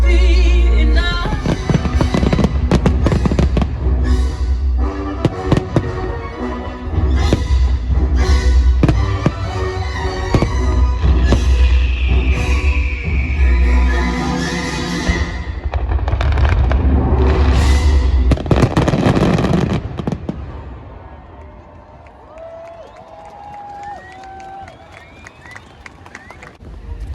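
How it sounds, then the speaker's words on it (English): A fireworks spectacular at Alton Towers theme park booms and crackles in dense, rapid bursts for about twenty seconds, then fades into quieter scattered pops and distant crowd murmur near the end. "we have just watched the ultimate fireworks spectacular"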